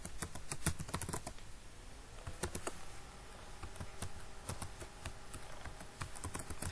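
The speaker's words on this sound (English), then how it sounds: "So we're gonna type something simple called" Code is typed on a computer keyboard with quick, uneven clusters of sharp key clicks, close and quiet, with short pauses between bursts and no talking.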